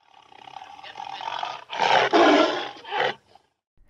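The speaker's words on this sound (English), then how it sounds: "Tiger." A tiger lets out a loud, rough roar that swells in several bursts, close and clear, then breaks off into silence.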